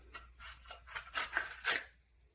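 Scissors snip through paper or card in a quick series of about six crisp cuts, close and fairly quiet, while a comic con craft project is made at a library event.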